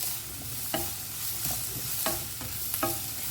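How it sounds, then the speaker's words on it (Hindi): Capsicum stir-frying in hot oil with light sizzling throughout and a few distinct scraping stirs of the spatula against the pan, close and moderately quiet. "इसे ना अभी 1 से 2 मिनट के लिए ना हमें ऑयल में अच्छे से फ्राई करके लेना है"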